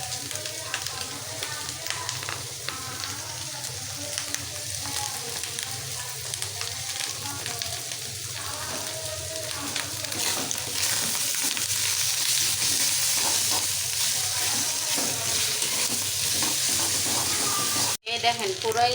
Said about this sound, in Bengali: এই দেখেন পুরোই দিনাজপুরের রান্না হইতেছে আজকে